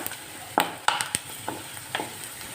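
Ginger fries in a pan with a soft continuous sizzle, broken by several sharp scraping and clacking stirs of a utensil against the metal.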